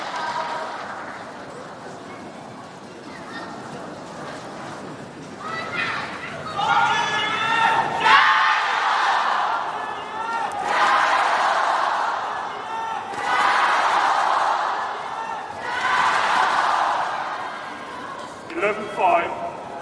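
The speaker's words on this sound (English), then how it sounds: "the crowd looking to do their part to try and lift the spirits of Wang Ziyi" Crowd at the Badminton Asia Championship 2024 quarter finals cheering in loud repeated swells of chanting and shouts, with quieter arena murmur between the bursts.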